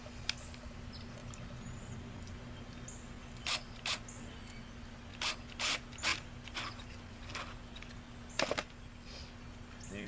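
Ratcheting clicks from tightening no-hub clamps on a sump pump check valve, a series of short separate bursts in small clusters over a steady low hum, close and fairly quiet.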